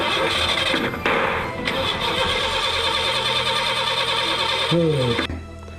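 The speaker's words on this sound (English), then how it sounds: "its engine turned off, and he couldn't get it started again" Cartoon police car engine cranking and sputtering as it fails to start, a continuous mechanical churn ending in a short falling squeal before cutting out.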